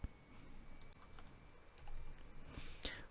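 A single computer keyboard key press triggers a sketch shortcut in Fusion 360, heard as a few faint, sharp clicks scattered over quiet room noise, with a slightly louder tap near the end.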